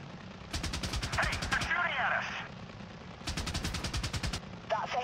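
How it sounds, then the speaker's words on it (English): Bursts of rapid machine-gun fire in the helicopter combat game Apache: Air Assault, two long rattling volleys separated by a short pause, with radio-style voices talking over the shooting. "they're shooting at us!"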